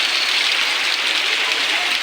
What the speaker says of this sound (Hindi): आप लोग देखिए भी यहाँ पे बारिश हो रहा है